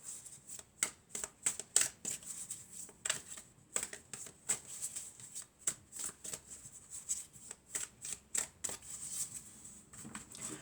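Oracle cards shuffled by hand during a French guidance reading, a steady run of quick papery riffles and soft slaps up close, with no voice over them.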